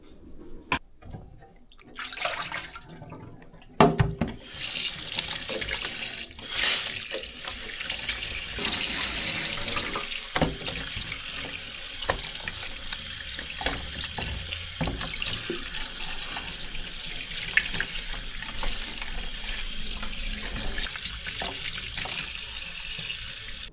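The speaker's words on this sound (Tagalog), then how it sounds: "hugasan ko pala muna yung isda" Tap water runs steadily into a sink while fish is rinsed under it in a home kitchen, a continuous splashing hiss with shifting bursts as the flow hits the fish and basin, close and alone without voices.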